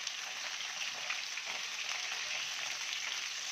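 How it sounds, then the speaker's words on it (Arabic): Marinated fish frying in hot oil, a steady dense sizzle that holds evenly from start to finish with no voices. "هنروح بقى نعلق الزيت ونبتدي بقى نقليه"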